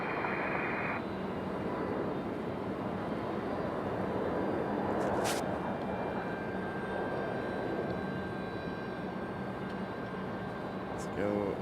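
A Spirit Airlines airliner departing Raleigh Durham International Airport for Fort Lauderdale: a continuous broad jet roar at moderate distance, steady with slight swells, with a brief sharper noise near the middle.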